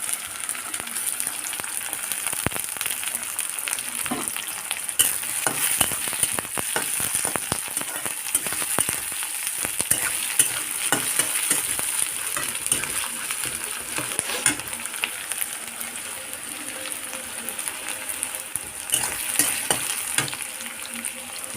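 Garlic, onion and chopped green chillies fry in hot oil with a continuous close sizzle and crackle, while a spatula stirs and scrapes the pan in irregular clicks for over twenty seconds.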